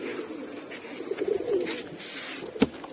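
Pigeons coo close by at a home loft, soft throaty calls repeating irregularly through the clip, with one sharper bump near the end and no talking.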